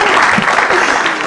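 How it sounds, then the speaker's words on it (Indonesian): An audience at a stand-up comedy battle show applauds in a dense, steady wash of clapping that fills the whole short moment. "Tepuk tangan sekali lagi untuk Mas Radit dan Lola."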